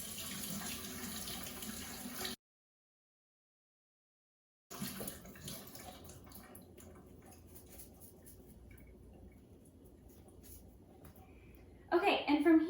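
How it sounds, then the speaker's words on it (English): Cold tap water running over brown rice in a strainer, a steady moderate splash broken by a brief gap of silence, with a louder burst near the end. "just run it under cold water"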